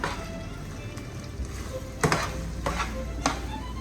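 Barilla pasta being stirred in a pot: soft scraping and sloshing with a faint sizzle underneath and a few sharper knocks against the pot, heard close by with no voices.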